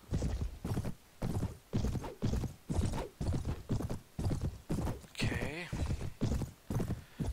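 A white horse gallops in the medieval combat game Mount & Blade with the Prophesy of Pendor mod, its hooves pounding in a steady repeating rhythm of heavy clip-clop bursts, with a short whinny breaking in near the end.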